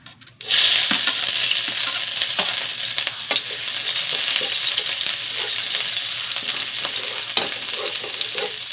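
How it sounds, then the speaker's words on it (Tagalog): Sliced ginger sautéing in hot cooking oil for Filipino bopis, a loud, steady sizzle that starts abruptly and crackles on without pause, with no talking. "Painit tayo ng mantika. Igisa natin ang luya."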